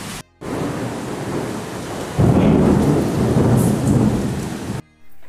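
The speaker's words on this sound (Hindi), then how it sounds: "अभी फिर से बारिश स्टार्ट हो गई है और ज़ोरदार बारिश हो रही है" Heavy rain pours steadily with a deep rumble of thunder, a dense roar that swells louder midway and continues loud and close before cutting off near the end.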